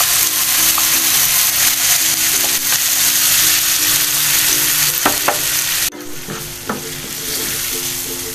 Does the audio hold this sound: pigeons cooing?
no